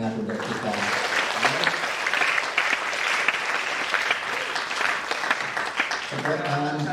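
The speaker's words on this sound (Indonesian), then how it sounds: "Sekali lagi tepuk tangan yang paling hangat untuk kita." Warm, sustained applause from a symposium audience fills the room, steady and fairly loud for several seconds, with a voice faintly audible at the start and end.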